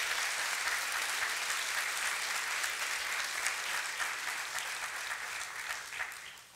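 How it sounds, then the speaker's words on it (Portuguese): A church congregation claps together in a dense, sustained burst of applause that holds steady for several seconds before easing slightly at the end, heard from within the room. "Vão aplaudir sim"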